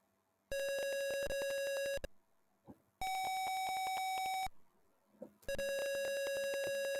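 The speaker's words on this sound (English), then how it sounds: "do a 550 and then a 750 tone, and so now it'll go beep boop," Three long, harsh electronic buzzing tones from an Arduino sound one after another, each lasting about one to two seconds and separated by short gaps with faint handling noise.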